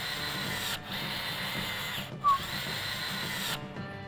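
A power drill drives screws into the slides of a tray platform during assembly, whirring in steady bursts that cut off abruptly twice, with a brief squeal partway through.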